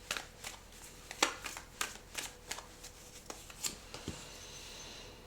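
Tarot cards being shuffled by hand: a quiet run of quick papery riffles and flicks, irregular and close, with no voices.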